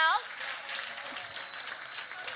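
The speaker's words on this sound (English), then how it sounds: "Let's give a round of applause to everyone in here that contributed" Audience applause at a young adult forum of the Aspen Ideas Festival, a steady wash of clapping held for the whole stretch after a brief voice at the start.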